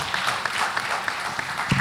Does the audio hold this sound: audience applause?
yes